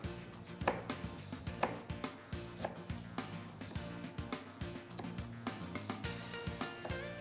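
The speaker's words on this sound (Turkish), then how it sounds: "Güzelce bir şekilde böyle doğrayıp kenarına gelecek şekilde şöyle dilimlerimizi koyalım." A knife chops rhythmically through a lemon on a cutting board, repeated cuts close by with a faint background hum.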